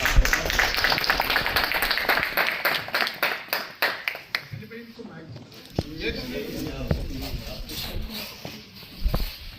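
Audience clapping greets a poet invited onto the stage at a live event, with a burst of applause at the start that thins into scattered claps while someone speaks.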